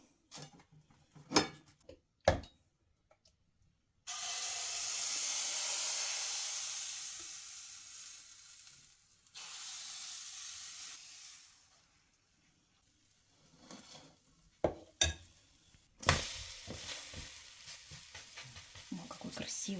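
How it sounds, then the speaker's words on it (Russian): A thin zucchini pancake fries in a pan on a stovetop at full power, giving a steady, fairly loud sizzle that surges twice, with a few sharp clatters of utensil contact before it. "И обжариваем со второй стороны также полминутки"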